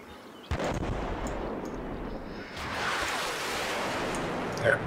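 Artillery fire in the Combat Mission Black Sea game, heard as a sharp distant boom followed by a rolling rumble and sustained battle noise, with another blast near the end.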